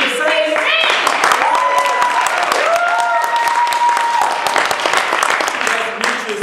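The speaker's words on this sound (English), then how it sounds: "When people screaming and clapping and things of that nature, that gets me pumped." An audience at a speech contest applauds and cheers loudly and steadily throughout, dense clapping with shouts and whoops rising over it.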